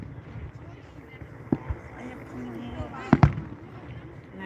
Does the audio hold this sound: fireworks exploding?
yes